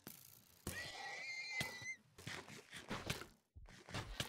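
A horse in the block-building game Minecraft gives a clear, close whinny with a rising and falling neigh, followed by soft thuds and footsteps.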